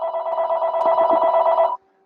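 A telephone rings with a single sustained buzzing trill of nearly two seconds, loud and close, then cuts off abruptly into silence.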